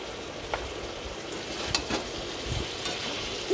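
Turmeric, chili powder and salt frying with young jackfruit curry in a pan, a soft, continuous sizzle with occasional light stirring scrapes, nearby but fairly quiet.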